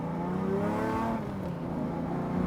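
A Lamborghini Diablo's 5.7-liter, 530-horsepower V12 revs hard and steadily at close range, its deep harmonic engine roar rising and holding without any talk over it.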